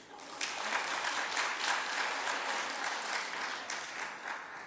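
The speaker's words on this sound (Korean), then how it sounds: "우리 찬양대회에서 박수도 한번 하시겠습니다" Congregation in a church sanctuary applauding the choir together, a dense, steady wash of many hands clapping that holds for the whole stretch before tapering slightly at the end.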